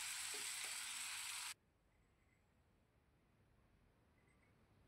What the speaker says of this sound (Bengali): মাছগুলোকে একটু কড়াভাবেই ভাজবো